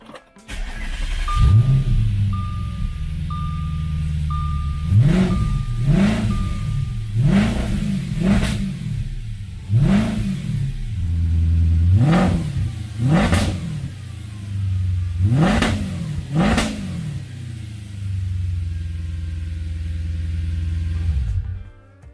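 A 2009 Audi S5 engine idles, then is revved about a dozen times in short, separate bursts, each rising and falling back to idle, loud and close with no talking.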